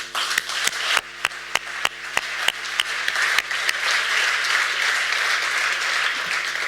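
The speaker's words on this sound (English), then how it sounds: "I also would like to ask for a big round of applause for the team that has been in front of the organization of this forum." A forum audience applauds the organizing team of a global childhood pneumonia forum. A few loud, sharp individual claps come first, then they swell into sustained, dense clapping from a large crowd.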